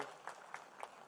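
Sparse, quiet applause from a crowd at a Tamil political gathering, heard as a handful of distinct hand claps spaced out over a second, with faint background murmur.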